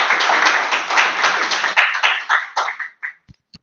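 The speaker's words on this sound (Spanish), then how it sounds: "Un aplauso para el hermano." A crowd applauds steadily, then the clapping thins out into a few scattered final claps before stopping.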